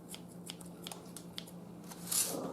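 Scissors snip through a hydroponic tray of cat grass, giving several short, crisp cuts in an uneven rhythm, then a brief louder rustle near the end, close up and without talk.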